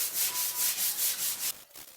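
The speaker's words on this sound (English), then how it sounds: "He's going to sand those down really good for us." Hood of a 1967 Firebird 400 being hand-sanded, steady rhythmic rubbing strokes repeating about every quarter second, close and fairly loud, then stopping abruptly partway through with a softer scrape after.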